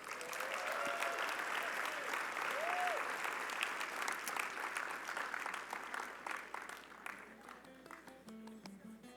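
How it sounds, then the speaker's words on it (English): An awards gala audience applauds an honoree named Hispanic Business Person of the Year, with dense sustained clapping that thins and fades toward the end, with a voice briefly heard over it. "Everybody, round of applause for Gabriela Neves."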